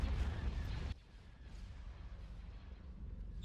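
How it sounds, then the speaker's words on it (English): A hypervelocity cannon fires in a Star Wars space strategy game, one heavy booming blast that cuts off abruptly, followed by a low rumbling battle ambience. "Hypervelocity cannon firing."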